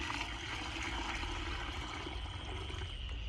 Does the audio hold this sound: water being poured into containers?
yes